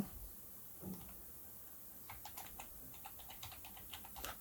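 Typing on a computer keyboard while organizing project folders in editing software: faint, quiet clicks in a rapid cluster of keystrokes after a single earlier tap, in an otherwise hushed room.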